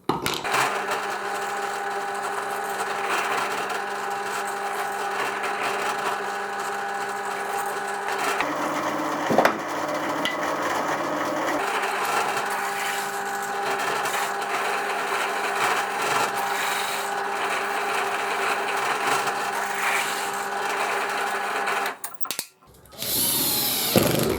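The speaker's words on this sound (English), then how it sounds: "And I need to drill some holes through." Steady, continuous whine of a power drill boring through wood, running nearly unbroken for most of the clip before cutting off near the end.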